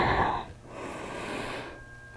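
Audible ujjayi-style yoga breathing during an Ashtanga session: a close, hissing breath, then a pause and a second long, rushing breath, both alone without talk.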